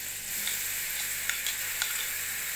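Onions sizzle and fry in hot oil for an egg and potato bhujia, a steady bright crackle close to the pan with a few faint stirring scrapes and no talk.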